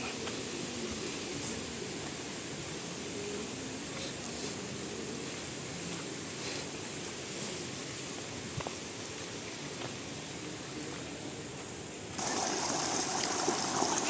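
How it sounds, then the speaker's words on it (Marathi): Water from an irrigation channel runs past coconut and areca palms, making a low, steady gurgle and rush at moderate distance. Near the end a louder, brighter hiss of flow rises, and no one speaks. "पाण्याची खळखळ होत आहे आणि पाणी वाहत आहे"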